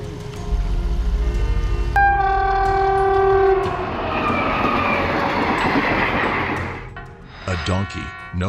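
A train rushes past on the tracks, loud and close, its horn sounding in sustained blasts before the roar and clatter of wagons sweep by and fade, with a voice partly over it.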